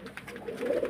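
Tumbler pigeons coo in a short, low, rounded burst that swells toward the end, close by at moderate volume with faint background noise.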